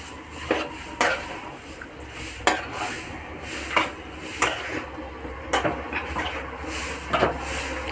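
Beef and banana curry being stirred in a pan: a spoon clinks and scrapes against the metal about a dozen times in an irregular rhythm over a soft sizzle, fairly quiet with no talking.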